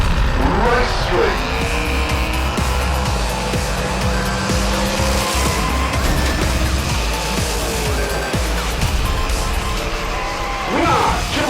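Hot Wheels diecast cars, a 33 Ford Roadster and a Bone Shaker, race down a track with a loud continuous whirring rumble of small wheels on plastic, a race announcer talking over it throughout.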